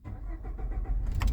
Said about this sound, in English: Here, let me turn the engine on.